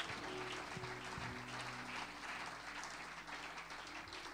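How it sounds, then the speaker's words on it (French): A church congregation applauds together, a dense steady wash of clapping that carries on for several seconds with an even loudness, heard from within the room alongside a low sustained tone. "Est-ce que nous pouvons acclamer pour la gloire de notre Dieu?"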